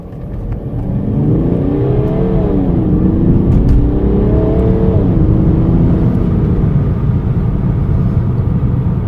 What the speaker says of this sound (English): another acceleration from a stop where I could see if I could brake this thing